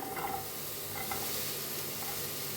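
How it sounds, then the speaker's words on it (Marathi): A steady, soft sizzle of onion frying in a pan, with a few faint scraping stirs, no voices. "आता कांदा भाजून घेऊया आपण"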